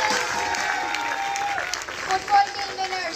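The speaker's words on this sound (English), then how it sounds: "A big round of applause for the lottery." Applause from an audience at a sports week prize distribution ceremony, fairly faint and distant, a steady patter of clapping with a few brief voices and tonal sounds mixed in.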